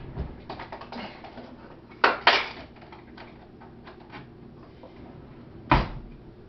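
A kitchen drawer is opened and shut, with a soft wooden slide and two sharp knocks followed by a later single thud, amid light clinking and tapping nearby; no talk.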